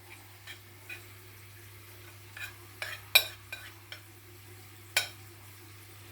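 Spaghetti is tossed with butter and Parmesan in a bowl, giving soft scattered clinks and wet slaps of utensils against the dish, about a dozen light irregular taps over a quiet background hum.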